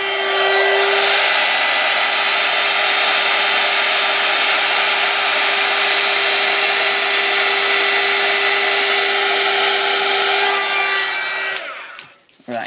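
A heat tool blasts steadily and loudly onto PaperArtsy Infusions on card, holding one strong, even whine for about eleven seconds before cutting off abruptly.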